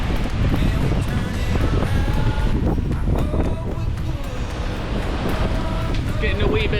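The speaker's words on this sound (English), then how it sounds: "Man, we've got some wind today." Strong wind roars steadily across a sailboat at sea on the North Atlantic, loud and constant buffeting with rushing water beneath, a voice talking over it.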